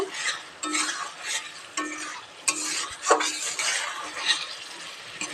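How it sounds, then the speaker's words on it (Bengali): Potatoes and jujube are stirred in a pan with a spatula, giving rhythmic scraping strokes at roughly one-second intervals over a soft sizzle, close and moderately quiet. "এই যে আলু আর এই যে কুল অ্যাড করে দেব এটা ভালো করে একটু নাড়তে থাকবো"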